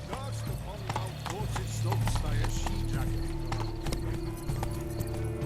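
Horse galloping in The Witcher 3: Wild Hunt, a rapid, close clip-clop of hooves with a brief whinny, under game ambience and a short bit of talk.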